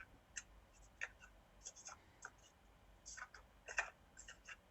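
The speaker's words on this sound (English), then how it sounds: "I want to just make sure that they're efficiently shuffled" Playing cards are shuffled by hand close up, with a quiet run of soft, irregular riffling clicks and flutters and no talking.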